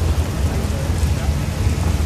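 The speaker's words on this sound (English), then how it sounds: "a familiar foe makes its presence known, the rain. This unexpected downpour adds that bit more challenge to the session" Heavy rain pouring down at the Snetterton race circuit during a Porsche Trophy session, a dense, loud, steady hiss with low rumbling, close and continuous.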